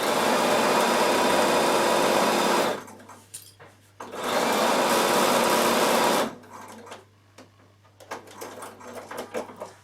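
A Bernina sewing machine stitches a seam on a carry case in two loud bursts of fast, whirring needle action, each about three seconds, separated and followed by quieter handling clicks and rustles.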